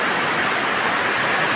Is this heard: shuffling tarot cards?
no